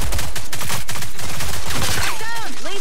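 Rapid gunfire bursts from the online shooter Rogue Company on the Vice map, dense and very loud, with overlapping shots and a whistling effect near the end, heard under excited player voices.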